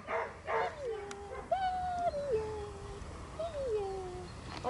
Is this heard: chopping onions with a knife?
no